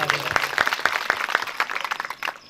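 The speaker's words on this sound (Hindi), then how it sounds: "एक बार फिर तालियां बजा दो।" Audience clapping at a religious stage gathering in a quick, uneven burst of many hands. Individual sharp claps stand out near the microphone before the applause thins and tapers off.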